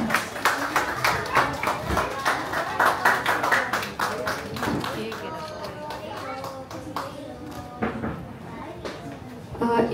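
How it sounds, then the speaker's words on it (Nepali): An audience at a book launch and literary gathering claps together, brisk rhythmic applause that fades into a softer spatter, with a speaker's voice running over it. "सबैजनाले जोरदार ताली।"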